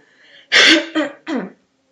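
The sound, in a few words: cough and throat clearing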